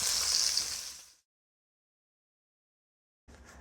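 Bone-in beef short ribs sear in a hot pan with a bright, steady hiss that runs for about a second, then cuts off into silence before a faint return.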